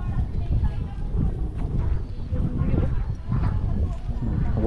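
Hooves clop steadily as a wagon rolls along outdoors near Mayon Volcano, Albay, with gusty wind rumbling across the microphone throughout.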